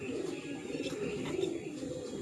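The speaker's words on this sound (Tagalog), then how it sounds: "Kita yung mga kalapati ngayon." Soft, low pigeon coos repeat in a murmuring rhythm, fairly close, with faint chirps mixed in.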